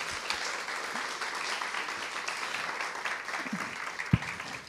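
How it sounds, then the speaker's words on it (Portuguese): Steady applause from an audience at a women's lecture event, fairly quiet and distant, continuous clapping for a few seconds with one sharper clap near the end. "Uma salva de palmas para vocês."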